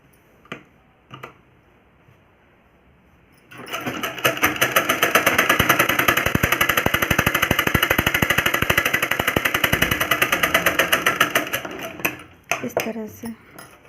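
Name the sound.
sewing machine stitching a blouse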